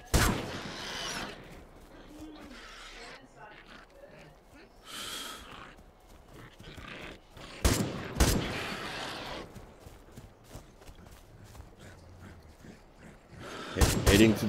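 Gunfire in the survival game Miscreated, aimed at the front of a vehicle: a few sharp, loud bursts near the start, around eight seconds and at the end, separated by quieter stretches of ambient game noise.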